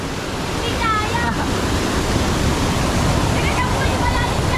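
Loud, steady waterfall roar beside a river, a constant close wash of rushing water, with brief faint voices calling over it.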